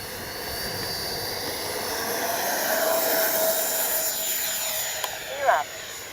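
An FMS Avanti S 70mm RC jet takes off with a steady, rising turbine whine that holds loud and near. Wind noise runs under it, and a brief sharp burst stands out near the end.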